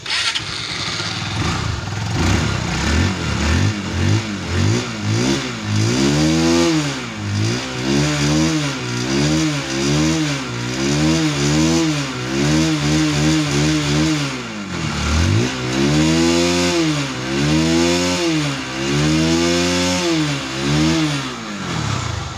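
A motorcycle engine sputters to life after a kick-start problem and then revs repeatedly, rising and falling in steady cycles, loud and close.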